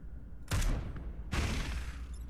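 Weapon fire in the tactical game Into the Breach: two heavy blasts about a second apart, each a loud broadband burst with a low boom that decays into a rumbling tail.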